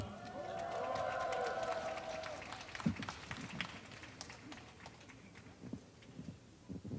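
Crowd applause rises for a speaker at a candlelight rally at Seoul National University: a sustained wash of clapping from a gathered audience, steady for a few seconds before thinning out as a voice begins.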